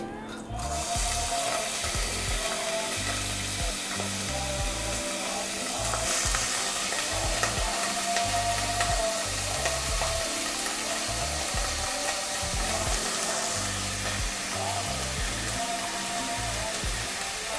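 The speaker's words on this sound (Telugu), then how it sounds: "ఆయిల్ వేసుకున్న తర్వాత ఈ ముక్కలు ఇందులో వేస్తానండి" Cabbage pieces fry in hot oil in a pressure cooker pot, a dense, steady sizzle with scraping stir sounds running throughout, close and continuous with no talking.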